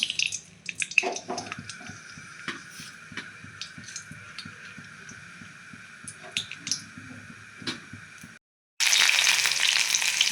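Mustard seeds sizzling and crackling in hot oil for tempering, a low steady fry with scattered sharp pops, close and moderately quiet, then a louder burst of sizzle after a short gap.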